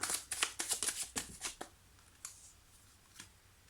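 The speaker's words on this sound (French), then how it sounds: "On va prendre 3 cartes ici pour clôturer." Tarot cards are riffled in a quick run of crisp shuffling bursts, then a few separate soft snaps as single cards are drawn, close and quiet with no speech.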